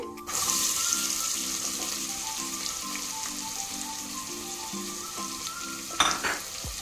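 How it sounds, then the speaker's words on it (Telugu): Onions and cashews frying in oil for a spicy Andhra-style mutton curry: a steady, soft sizzle with repeated scraping stirs and a brief clatter near the end. "ఇప్పుడు అలానే ఒక 1 cup ఆనియన్స్ కూడా వేసుకుంటున్నానండి"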